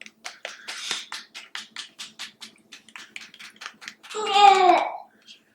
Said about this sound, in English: Give it a big old mix. This one's I'm going to have to sit here and mix it for a second.